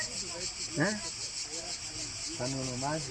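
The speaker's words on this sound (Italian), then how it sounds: "oggi che ci sono le cicale che cantano" Cicadas sing in a steady, high-pitched buzz that runs through the whole moment, while someone talks over it in Italian.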